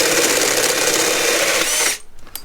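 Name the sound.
drilling with a power drill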